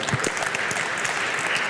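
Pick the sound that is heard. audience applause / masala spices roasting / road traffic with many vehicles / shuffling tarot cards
audience applause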